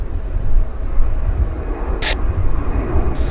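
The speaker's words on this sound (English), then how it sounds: "Here comes the CRJ now. Inbound from Denver." A CRJ regional jet arrives at Vancouver airport inbound from Denver, a steady low broadband roar of jet engine noise rumbling throughout, with a brief higher hiss partway through.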